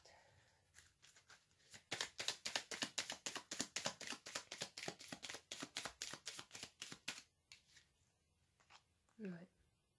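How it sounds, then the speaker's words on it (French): Tarot cards are shuffled in a quick, rhythmic run of soft riffling taps lasting several seconds, followed by a few lighter card flicks. The sound is close and fairly quiet. "Je vais tirer une autre carte."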